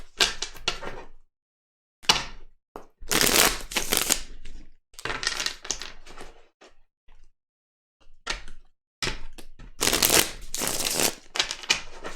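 Tarot cards are shuffled by hand in several separate bursts of crisp riffling and slapping, each followed by a short silence, close and fairly loud.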